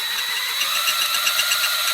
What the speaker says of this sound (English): Let's just drill a hole.